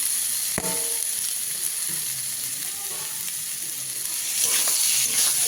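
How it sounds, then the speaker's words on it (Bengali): Fried potatoes and mushroom cooking with spices in a pan give a continuous sizzle with occasional stirring clatter, growing slightly louder near the end, and no voices. "ভালো করে এবার মশলার সাথে আলুগুলো কষিয়ে নেব"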